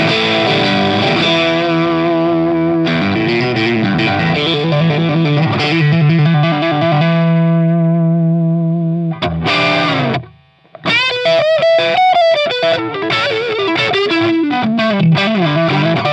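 Overdriven electric guitar through an Ibanez TS-10 Tube Screamer plays a gritty, sustained riff with bending notes, a short pause, then quicker distorted licks, loud and unaccompanied.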